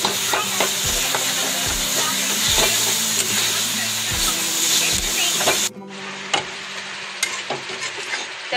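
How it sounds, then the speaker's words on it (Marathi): Jaggery being stirred into a sweet coconut modak filling in a hot pan: steady sizzling hiss with repeated scraping strokes of a spoon, loud and close, the sizzle dropping off near the end. "तर हे गूळ मिक्स करून घ्यायचं आहे आपल्याला"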